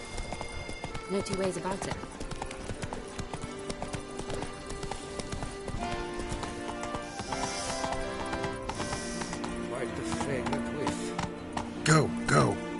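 Horse hooves galloping in The Witcher 3, a fast steady clip-clop rhythm running throughout under game music and a voice, with a brief whinny-like burst near the end.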